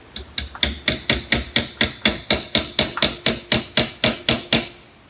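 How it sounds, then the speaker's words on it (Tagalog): A hammer striking a Look cleat-style bicycle pedal during an overhaul: about fourteen sharp, ringing metallic blows in a steady, even rhythm, loud and close, each decaying quickly before the next. "Kailangan po natin ng martilyo mga kapadyak."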